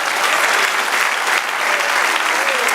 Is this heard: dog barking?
no